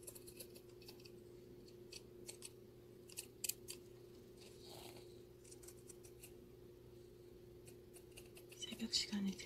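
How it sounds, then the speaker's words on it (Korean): Serrated-blade sewing scissors snip through fabric at home, giving soft, crisp cuts at an uneven pace, close to the ear but quiet, with a slightly louder cluster of snips near the end. "원단 자를 때 소리 완전 좋아요."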